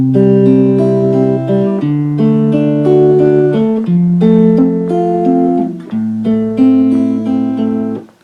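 A guitar is finger-picked in a steady six-stroke arpeggio through the chords of House of the Rising Sun, each plucked note ringing clearly and close, with no voice over it.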